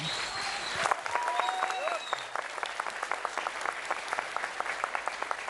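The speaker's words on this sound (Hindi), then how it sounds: "एक ये प्यार है लोगों का जो इतनी तालियां इतनी देर तक बजती हैं।" Long, steady applause from a large studio audience welcoming a cricketer onto a televised Hindi chat show, dense clapping sustained throughout with a few faint voices underneath.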